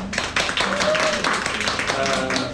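Applause for the organiser at a small pocket festival: a dense, steady patter of many hands clapping nearby, with voices mixed in throughout.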